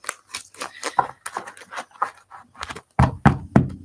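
Stiff new tarot cards shuffled by hand, with a run of quick, uneven riffles and flicks followed by a few sharper, louder taps as the deck is squared, close to the listener.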